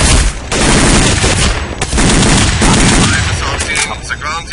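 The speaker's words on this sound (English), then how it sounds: "We are taking fire from the tunnel." Rapid automatic gunfire in Counter-Strike: Condition Zero Deleted Scenes, a tunnel firefight with dense bursts of loud, close shots and only brief pauses, faint voices mixed in.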